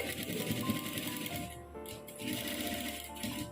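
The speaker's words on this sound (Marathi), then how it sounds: "जसं मी मार्किंग केले तशी शिलाई देते" A sewing machine stitches a rounded seam on the cup of a blouse, running in a fast, even rattle close by with a short pause midway, and no talking.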